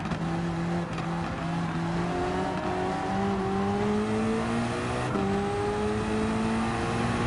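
A 1995 McLaren F1 GTR short-tail race car in Gran Turismo 7, its engine droning steadily at high revs with rising pitch sweeps through the gears, another car's engine layered in, continuous and loud with no talk.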